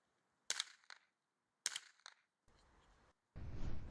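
Minirifle shots at a shooting competition: two sharp, close cracks about a second apart, each followed by faint ringing hits, then bursts of hiss and rustle near the end.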